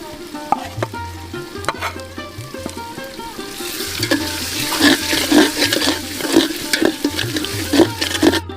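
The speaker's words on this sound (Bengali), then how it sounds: "এটাকে এবার ভালো করে কষিয়ে নিতে হবে" Mutton curry masala with ginger paste frying in a village kitchen pot, a loud close sizzle with repeated scraping stirs and clanks, getting busier and more bubbly in the second half.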